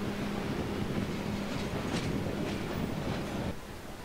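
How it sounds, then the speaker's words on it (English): A passenger train from Villazón to Uyuni, Bolivia, rolls into a station with a steady, rushing rumble and faint rhythmic clatter of wheels on rails, heard from a short distance. "This is the train from Villazón to Uyuni, arriving late one evening"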